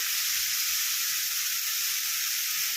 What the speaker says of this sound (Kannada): ಟೊಮೊಟೊ ಹಾಕ್ತಾಯಿದ್ದೀನಿ ಟೊಮೊಟೊನ ಚೆನ್ನಾಗಿ ಹಾಕಿ ಫ್ರೈ ಮಾಡಬೇಕು